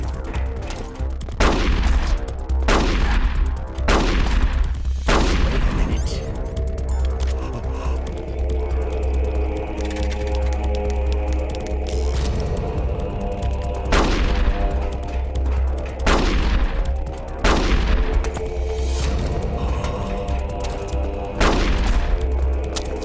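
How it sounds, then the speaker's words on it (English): Gunfire during the Ocelot boss fight in Metal Gear Solid: The Twin Snakes: sharp, loud shots ring out repeatedly at uneven intervals over a steady low hum of game music. "Someone's shooting at you, bloody get behind cover or keep moving."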